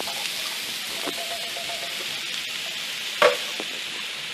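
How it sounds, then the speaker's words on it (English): Beans and rice simmer and sizzle quietly in a pan while feijoada is cooked, a soft steady crackle with a single sharp clink of a utensil midway. "while that's sizzling up"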